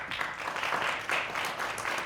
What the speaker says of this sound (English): I paused to see how quickly the applause came.